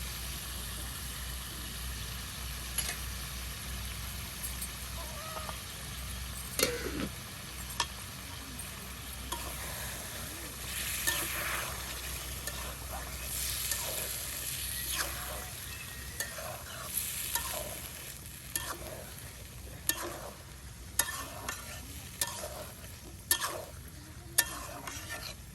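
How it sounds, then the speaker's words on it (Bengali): Meat with spices frying and being stirred in a pan, repeated scraping strokes over a steady sizzle, close and fairly loud, with sharper clacks of the spoon growing more frequent toward the end. "আর এখন মাংসটা মশলার সাথে একদম মিক্সড করে দেওয়া হলো, যেন মশলাটা মাংসের ভিতরে ঢুকে যায়"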